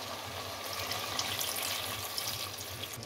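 Water poured from a cup into a cooking pot of partly cooked chicken korma for the gravy, a steady close splashing pour lasting a few seconds without pause.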